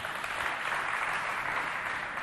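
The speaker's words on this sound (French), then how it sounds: "on les applaudit encore s'il vous plaît" An audience at a community performance event in Chad applauds steadily, a dense wash of many hands clapping at once, sustained without a break and without talking.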